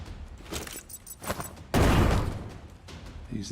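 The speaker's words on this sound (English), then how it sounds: "So let's just go and throw the grenade here." A thrown grenade explodes in a turn-based tactical strategy game, a sharp, loud blast partway through that decays into rumbling debris after a few quieter clicks and shuffles.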